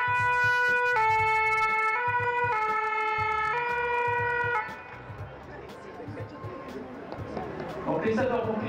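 A French fire brigade ambulance arrives at a road accident scene with its two-tone siren blaring loudly for several seconds before cutting off, leaving engine rumble and street noise as someone speaks over it.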